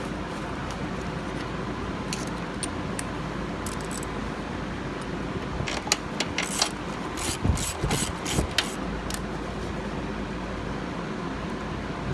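Ratchet clicks while bolts are driven back into a Briggs & Stratton carburetor on a Craftsman lawn mower, short bursts of close mechanical ratcheting mid-clip over a steady low background hum.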